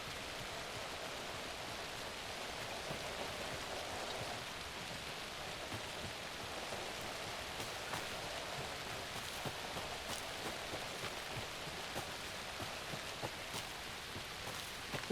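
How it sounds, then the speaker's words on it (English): Steady rain falls in a video game, a continuous hiss of drops pattering on surfaces with no break, even and moderately loud throughout. "it's raining in both our games"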